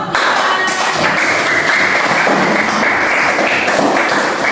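A classroom of students claps for a presenting group during a micro-teaching lesson, loud, busy clapping that runs continuously and close by, with scattered taps and thumps mixed in.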